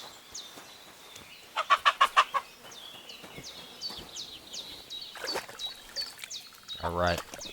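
Chicken clucking in Kingdom Come: Deliverance 2, a quick burst of several short clucks near the start, then faint game ambience with scattered bird chirps and a brief bubbling trickle near the end.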